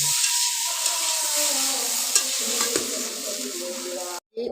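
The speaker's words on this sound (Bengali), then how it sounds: "এবার আলুগুলো ভেজে নেব এগুলো দেশি আলু" Desi potatoes frying in a kadai during home cooking of a fish-head curry, a steady loud sizzle with stirring scrapes and a few clinks running throughout, alone with no talk, briefly cutting out near the end.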